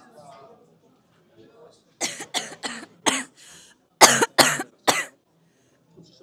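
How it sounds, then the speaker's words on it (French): A close burst of harsh coughs after running the Red Bull 400 uphill race, several in quick succession with short pauses, some rasping like throat clearing, after a quiet start. "Mes poumons, ils n'arrêtent pas de tousser."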